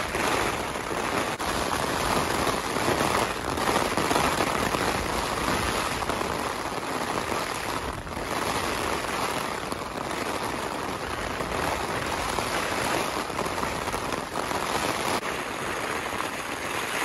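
Heavy rain drums steadily on a tent in Scotland, a dense, constant wash of close patter with no letup and no voices.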